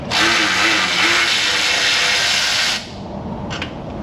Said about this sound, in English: this is probably my favorite Milwaukee ratchet aside from that adapter piece